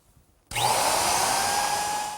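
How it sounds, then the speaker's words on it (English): Router fitted with a 3/4 inch radius bit rounding over the edge of a wooden tilt-top table, starting abruptly and holding a loud, steady high whine close by. "I'm using a 3/4 inch radius to ease that edge to give me clearance for the top to tilt."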